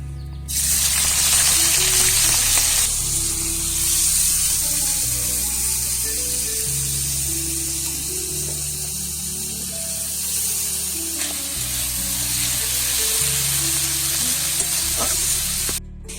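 Potatoes fry in hot oil with a steady, loud sizzle and crackle that runs unbroken from start to finish, with no talking over it.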